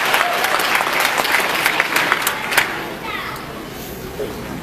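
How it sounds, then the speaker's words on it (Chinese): Applause from an audience invited to welcome a speaker at a gathering in the United States, a dense, continuous clapping that fades near the end, with a few children's voices mixed in. "大家掌声欢迎"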